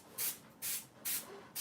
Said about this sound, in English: Oh, I sprayed everywhere.